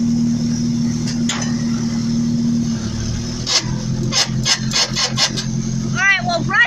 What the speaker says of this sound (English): Now it's running better.